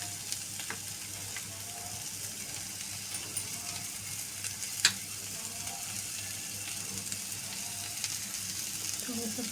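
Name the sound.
roasted besan being stir-fried in a pan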